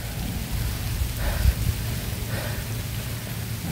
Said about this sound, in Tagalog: Lakas yung ulan no, ang basa na natin mga idol